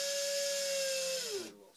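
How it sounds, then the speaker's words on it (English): A power drill whirs steadily while a birdhouse is being built, then winds down as the trigger is released near the end; the motor sounds close and loud, with no talk over it. "And we're going to drill."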